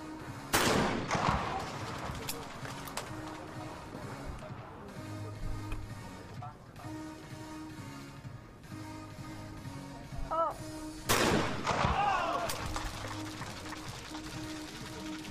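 Shotgun blasts ring out at a women's trap shooting final at the 2021 Chinese National Games, two sharp loud reports several seconds apart over crowd and commentary murmur.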